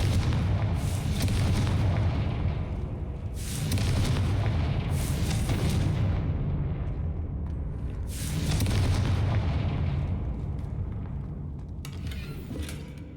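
Confringo blasting spells in the Hogwarts Legacy video game set off repeated loud explosions, with several heavy booms and rumbling, crackling roars rising and falling in waves.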